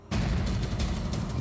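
A single loud, close gunshot in a crime drama, a sharp onset followed by a long booming, rumbling decay with no voices.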